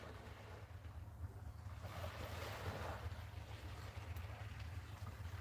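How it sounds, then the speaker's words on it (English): A boat out at sea off the Isle of Sheppey rumbles low and steady behind breaking waves and gusting wind noise on the microphone, with no one talking. "I can hear a boat."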